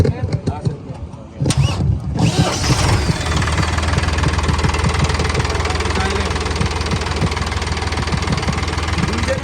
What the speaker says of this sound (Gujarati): ત્રણ સિલિન્ડર એનો અવાજ તમે જુઓ